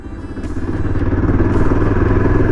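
A Yezdi Adventure motorcycle rides in third gear, its engine thumping steadily and building into a loud, rhythmic, close drone.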